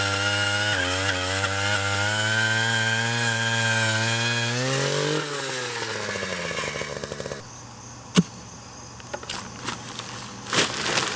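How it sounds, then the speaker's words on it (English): A power auger drills a fence post hole, a loud steady engine drone whose pitch dips around the middle as the bit bites into the ground, then settles into a rougher idle with sharp knocks and clatters near the end. "Drill this post out and set it."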